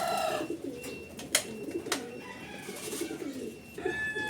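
A racing pigeon arriving at its loft on a summer training flight from San Miguel, Bulacan, with soft coos and fluttering amid other birds chirping, fairly close and moderately quiet.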